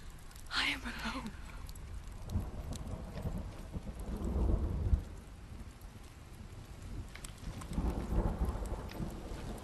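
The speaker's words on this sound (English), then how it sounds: "the thunder on the headset sounds so fantastic" Rain falls steadily in Hellblade: Senua's Sacrifice while low thunder rumbles swell and fade beneath it, with someone talking over the storm.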